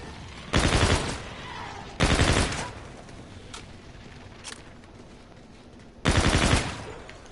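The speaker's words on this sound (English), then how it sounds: "Shooting the legs takes more bullets to kill him." Gunfire aimed at a monster in a video game: three loud bursts of rapid shooting, each about a second long, separated by quieter gaps with a couple of faint single shots between.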